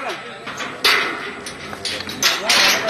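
An iron bar striking the lock of a locked church door, several hard metallic blows at irregular intervals, loud and close, with people talking and shouting around it.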